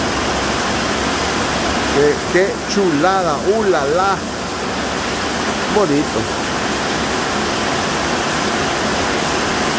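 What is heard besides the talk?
heavy rain storm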